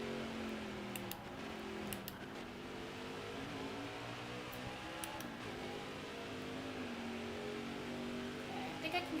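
Race car engine in NASCAR Heat 5 revving steadily through a lap with gear shifts, a continuous mid-level drone with pitch sweeps, while someone talks over it.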